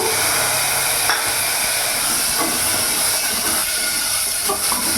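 Diced potatoes stir-fried with chicken for ghugni in a hot pan, a loud continuous sizzling hiss close up, with occasional faint scrapes of stirring beneath it.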